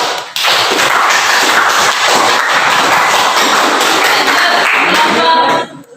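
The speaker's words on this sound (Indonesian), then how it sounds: "Berikan aplaus untuk kelompok." A classroom audience gives loud, dense applause to a student group after its presentation. The clapping swells in quickly, holds steady for several seconds, then cuts off.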